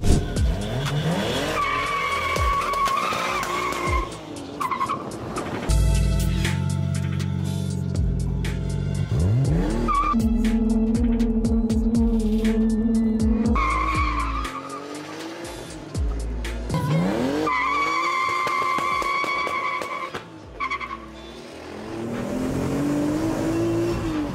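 Tires squeal and skid repeatedly as a car spins in circles, the engine revving and roaring loudly throughout, with brief pauses between long screeching runs.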